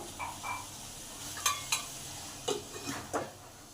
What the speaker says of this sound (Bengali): পটলগুলোকে লাল লাল করে ভেজে নিতে হবে